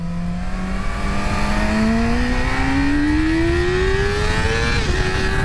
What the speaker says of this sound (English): It sounds so thrilling to give this bike the beans and rev her out